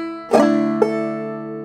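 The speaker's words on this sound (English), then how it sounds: "So it's a pull-off followed by the rest of the clawhammer strum." Clawhammer banjo playing a pull-off followed by the rest of the strum, two close plucked attacks that ring on as sustained bright tones, played alone and up close.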